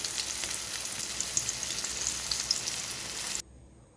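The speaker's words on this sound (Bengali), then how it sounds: "তেলে প্রথমে ভেজে তুলছি।" Salted, turmeric-rubbed fish pieces fry in hot oil with a steady, close, bright sizzle and crackle that carries on evenly, then cuts off sharply near the end.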